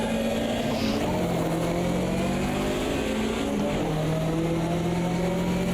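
Classic GT race cars, Porsches and Corvettes, run in a pack in Automobilista 2: a steady, continuous engine drone with shifting harmonic tones as revs rise and fall, close and loud throughout with no talk.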